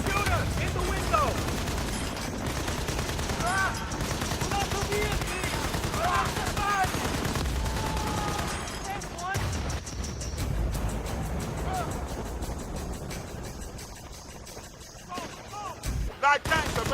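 Machine-gun and other gunfire in the war shooter Battlefield: Bad Company, dense, loud bursts of shots running almost the whole time, with a voice talking over the battle.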